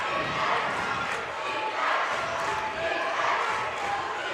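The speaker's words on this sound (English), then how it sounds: "Crowd coming alive for the Stags defense." Basketball arena crowd at a women's college game, Quinnipiac at Fairfield, roaring steadily as the home Stags defend, a dense continuous swell of voices with no clear individual words.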